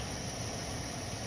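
A Jeep 3.6 engine, with a no-heat fault and coolant being bled, idles steadily after running for a while, giving a close, even drone with no breaks.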